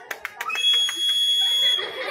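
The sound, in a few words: whistle blown, vibrating loudly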